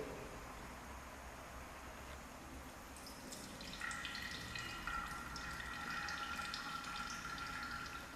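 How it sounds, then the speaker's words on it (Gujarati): Water overflowing from a displacement vessel into a measuring cylinder, a faint thin trickle and splash that starts midway and continues steadily, quiet and close, with no talking. "તમે જોશો કે સ્થળાંતર પાત્રમાંથી કેટલું પાણી ફરીથી અંકિત નળાકારમાં જશે"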